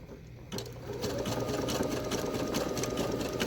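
A sewing machine stitches a face mask seam, its close, steady mechanical whir running without pause and growing louder after a brief softer start.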